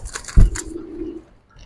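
A female Giribaz pigeon gives a single low, drawn-out coo after a sharp soft thump, close and clear, fading away within about a second.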